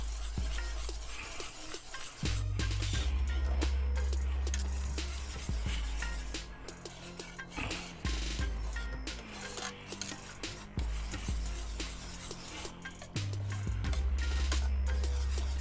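Thickener being stirred into a pot of food with a spoon, a steady close scraping and rubbing with occasional clinks against the pot, fairly quiet and continuous, no voices.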